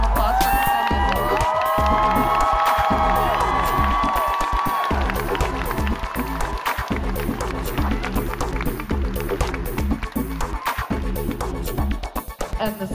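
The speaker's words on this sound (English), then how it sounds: "Big round of applause." A large fan convention crowd cheers and applauds loudly as cast members are introduced, with whoops and shouts over steady clapping and music, fading slightly toward the end.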